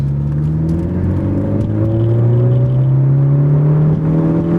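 A stock 2018 Ford Focus ST engine pulls hard on a race track, its loud, steady drone climbing smoothly in pitch through the whole acceleration, with no voices.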